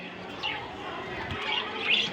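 Small caged birds in an indoor room give a few faint, brief chirps and tweets over steady background noise.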